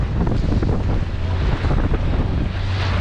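Strong wind during a snow storm buffets the microphone outdoors while riding a bike in falling snow, a loud continuous low roar and rumble with no speech.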